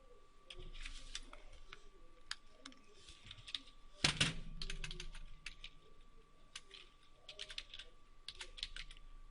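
Rapid, uneven keystrokes on a computer keyboard, close and fairly soft, with clicks in short bursts and one louder thump midway, while data is entered into a database application.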